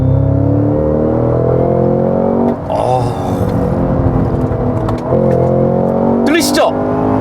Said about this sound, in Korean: 배기 사운드 한번 다시 들어볼까요?